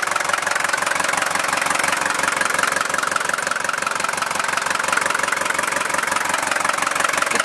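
A 1979 Mercedes-Benz 240D diesel engine idles steadily, a loud, even clatter with a rapid knocking pulse that never changes pace, heard up close with no talking.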